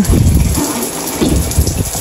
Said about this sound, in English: Then I go in here, open this up, and run my shower water. Turn on hot and cold.